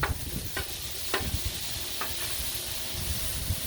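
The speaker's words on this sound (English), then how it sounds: "bacon is so awesome on the griddle." Bacon strips sizzling steadily on a hot griddle, a close, continuous crackling hiss broken by a few sharper pops and scrapes, with no voices.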